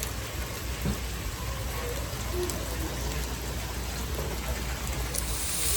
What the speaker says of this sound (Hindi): बारिश चल रही है यहाँ पे